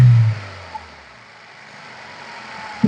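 A Hyundai i10 engine revs briefly, then drops to a low idle rumble, heard close with a faint knock partway through and another rise at the end.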